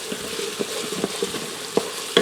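Spoon stirring Italian seasoning through a lasagna mixture in a pressure cooker pot, soft scraping under a steady low sizzle with a few sharper knocks near the end; no talking.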